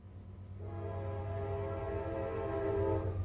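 A train rumbles close by with a steady low drone, then a long sustained horn blast rises and holds for several seconds over the rolling noise.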